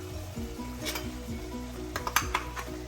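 Masala paste goes into Chettinad chicken sizzling in a pan. A steady close frying hiss runs throughout, with a few sharp utensil clinks and stirring scrapes near the end over soft background music.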